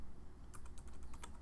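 Rapid typing on a computer keyboard, a cluster of crisp keystrokes starting about halfway through over a low steady background hum.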